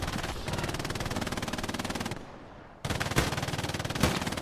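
Sustained machine gun fire in Hell Let Loose, a World War II shooter, rattling in rapid continuous bursts that break off briefly before resuming loud and close, with a sharp shot standing out near the end.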